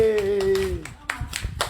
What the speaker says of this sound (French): Mettez-moi le cœur. Applaudissez.